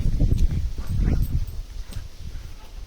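A dog makes short, rough, whimpering barks close by while out with a horse, the yips coming in quick bursts over low rustling and movement noise.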